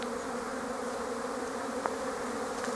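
Honeybees flying around hives on a mild February day, a steady close buzzing drone that holds evenly throughout with no voices.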